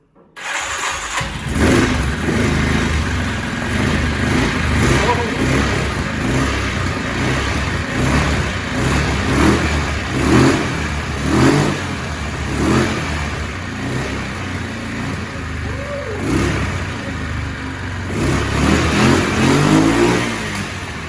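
An old junk engine cranks and catches, then revs up in several rising surges before settling into a rough, steady idle, loud and close throughout.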